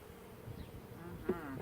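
Honeybees buzzing faintly around a hive frame at an outdoor beekeeping workshop, a low steady drone with a brief louder bee passing close, under soft background noise.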